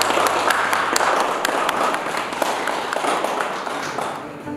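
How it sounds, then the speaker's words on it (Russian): Applause from colleagues at a signing ceremony for a cooperation agreement between Rosselkhoznadzor and the Russian Academy of Sciences, a dense roomful of clapping sustained for several seconds and tapering off at the end, with no talking. "Аплодисменты, коллеги!"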